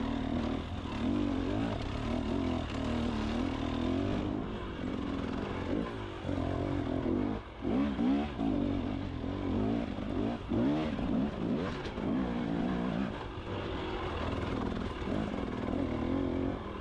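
Dirt bike engine climbing a rocky, rooty winter trail, a steady droning rev with wavering pitch as the throttle is held, close and continuous throughout with no talking.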